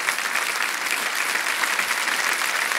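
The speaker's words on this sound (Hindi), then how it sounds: "तालियां बज जाए इनके लिए" Sustained studio audience applause on the KBC India game show set, dense even clapping filling the whole stretch with no voices over it.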